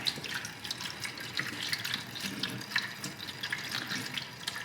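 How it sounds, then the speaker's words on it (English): Water runs and trickles steadily, draining with gurgles and small splashes like liquid flowing into a sink drain, draining out of a white sage distilling setup. "you can see the water's draining out"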